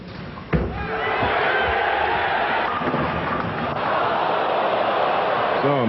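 Bowling tournament crowd at the 1995 US Open, a loud sustained murmur and cheering with a sharp slam near the start, steady throughout.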